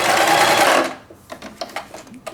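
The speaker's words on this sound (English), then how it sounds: "I'll turn the corner just to finish off our stitch, and then reverse" A sewing machine stitches a quilted mug rug in a fast, loud, continuous run that stops abruptly after about a second, followed by a few soft mechanical clicks and handling noises.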